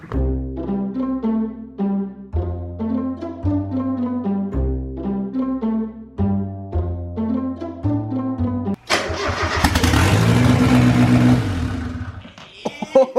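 Rhythmic cranking repeats several times, then a smoky turbocharged Mazda Miata engine with a suspected coil issue catches and roars loudly to life, settling into a rough, throaty run close by.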